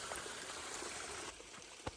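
A storm-swollen creek rushes steadily with a broad, continuous wash of water, close and fairly loud, easing slightly after a moment, with one brief sharp splash or knock near the end and no voices.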